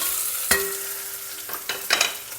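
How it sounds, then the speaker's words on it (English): Green chillies sizzle in hot oil as a spatula stirs them, producing a steady close frying hiss broken by a few sharp scraping strokes against the pan. "And the green chillies. Stir them in the oil."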